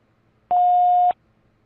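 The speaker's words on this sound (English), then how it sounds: "Please leave a message after the beep" Voicemail beep in a Yakuza 0 Director's Cut trailer: a single steady electronic tone of about half a second, loud and clean, set against near silence.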